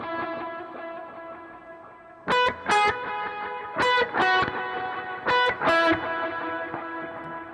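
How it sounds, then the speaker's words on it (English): Electric guitar through a dual delay pedal set to dotted-eighth and quarter repeats, a sustained tone broken by bright plucked notes that echo in pairs, building a rhythmic, reverberant pattern with no talk. "Specifically, this is a dual delay."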